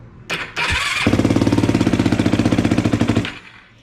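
A Yamaha YFZ450 ATV with a freshly rebuilt top end is cranked over: a brief whir and clunk, then about two seconds of loud, rapid, rhythmic engine chugging close by before it cuts out.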